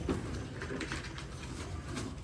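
Several pigeons cooing close by, soft low throaty calls repeating in overlapping bursts over a continuous murmuring background, with no voices standing out.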